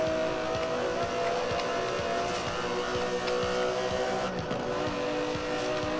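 An Aston Martin DB11 with a 5.2-litre twin-turbo V12, driven in the Forza Horizon 4 racing game, drones steadily with a sustained, moderately loud engine tone and small shifts in revs, and no voices.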